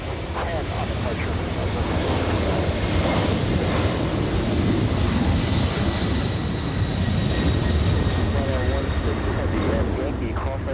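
A Lufthansa airliner, flight LH453, takes off at Los Angeles International Airport with a steady, loud, broadband jet roar that lasts throughout, mixed with wind buffeting on the microphone.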